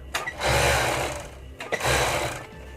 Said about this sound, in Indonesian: cara atau tutorial cara mengobras kemeja ya, untuk lengan dan bagian samping